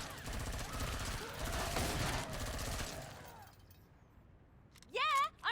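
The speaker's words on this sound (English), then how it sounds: "She shoots, she kills." Rapid gunfire in a video game, several seconds of dense shooting that fades out, followed by a short burst of speech.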